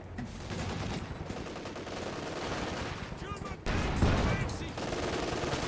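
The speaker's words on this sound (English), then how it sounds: "Pat gun set up in a good spot, hitting the T-70." An anti-tank gun fires on a T-70 tank in Company of Heroes 2, a winter Soviets-versus-Ostheer match, with sharp cannon reports and impacts over a constant din of battle, one heavier blast landing near the middle.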